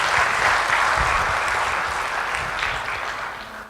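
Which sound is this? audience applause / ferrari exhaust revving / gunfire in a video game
audience applause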